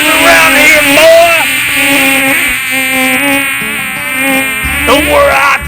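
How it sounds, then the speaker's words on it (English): Mosquitoes buzz loudly and close up, a continuous whining drone with shifting pitch, as voices talk over it. "you got too many damn mosquitoes around here, boy."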